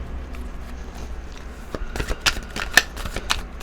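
Crisp riffling and flicking of tarot cards being shuffled, a run of quick papery snaps building toward the end over faint background hiss.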